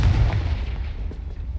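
A Confringo fire spell explodes in the Hogwarts Legacy video game, a single deep booming blast that rumbles at the start and fades over a second and a half, with no talking.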